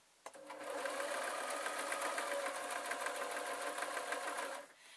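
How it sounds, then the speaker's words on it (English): An electric sewing machine stitches around a jodhpur stocking in one steady, close whirring run of rapid needle clatter lasting a few seconds before it stops. "if I place it in the sewing machine so I can see just a thin line of this brown, then I can just sew round"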